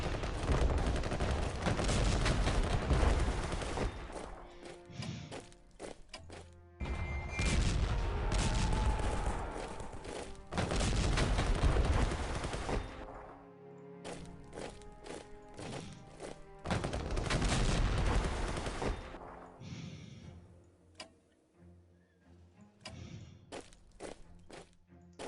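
A general attack on the Eastern Front in the Strategic Command WWI strategy game brings repeated bursts of massed gunfire and thuds, with quieter gaps between the volleys, running for about twenty-five seconds with no speech.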